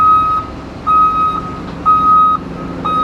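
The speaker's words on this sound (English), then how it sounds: "The beep, beep, beep is for safety. Everybody needs a backup alarm to know where they're going to back into." An excavator's backup alarm sounds while the machine reverses on a construction jobsite: a loud, steady series of evenly spaced electronic beeps, four in all, over a low engine rumble.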